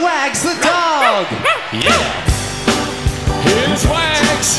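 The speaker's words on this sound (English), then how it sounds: "He's got a great big bark that you might have heard." A big, furry dog on a children's television show gives several loud, close barks and yips mixed with lively voices talking and calling out around them.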